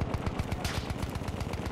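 Rapid automatic gunfire in Battlefield 1, a dense rattling stream of close shots in quick regular rhythm without talk.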